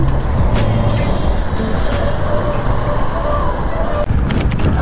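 Suzuki V-Strom 250 motorcycle pulling strongly in second gear on a test ride, steady engine drone and wind noise close up, with a few bumps.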